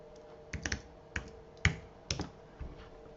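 Light, scattered keystrokes on a computer keyboard, a few quick clicks at a time in short uneven bursts, close and fairly quiet with no talking.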